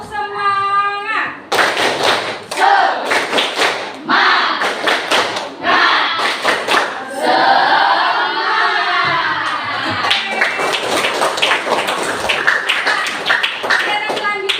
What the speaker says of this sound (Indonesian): Sekarang kita tepuk semangat dulu yuk